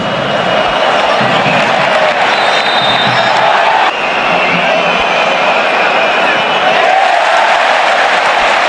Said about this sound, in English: Another huge cheer as Gerard Martin went to 0-0.